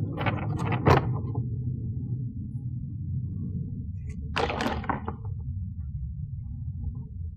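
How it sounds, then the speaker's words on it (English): Clipped interior trim panel on a Tesla Model S being pried and lifted out, giving a few sharp plastic clicks and rattles near the start and again midway, close and fairly loud against quiet background. "Now this part will lift out. With a couple of clips that you loosen on the sides."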